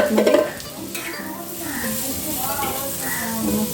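Three garlic cloves dropped into hot oil with onion for a village-style chicken curry, giving a continuous close sizzle and stirring scrapes, with a voice talking over it.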